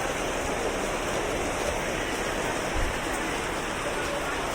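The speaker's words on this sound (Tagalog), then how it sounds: "Parang lakas ng ulan." Heavy rain pours down in a dense, continuous roar, loud and unbroken, with no voices over it.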